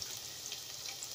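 Garlic sautéing in a pan, a steady close sizzle that stays even and fairly quiet without pause.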